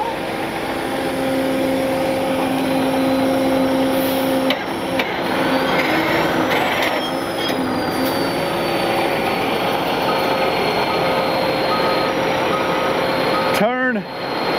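A vehicle reversing with its warning beeper chirping in a steady rhythm over a low idling engine, while people talk nearby outdoors.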